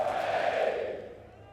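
A large crowd at the Ryder Cup golf tournament roars after the opening tee shots of the singles, a loud sustained cheer that swells and then fades away over a second or so.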